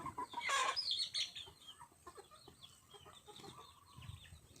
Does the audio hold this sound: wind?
no